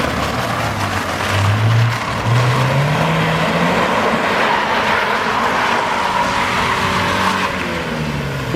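A budget Subaru drifts in circles, tyres skidding and squealing loudly against a roaring engine that rises and falls, with smoke pouring off the tyres, close and continuous throughout.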